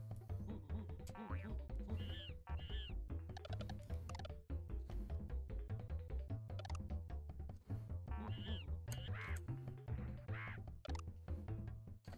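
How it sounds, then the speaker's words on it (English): Retro video game music and effects from a Jungle Book game on NES and SNES, with a synthesized owl call that sounds more like quacking or croaking, repeated in short chirpy bursts over a steady, loud electronic soundtrack. "That owl doesn't sound much like an owl."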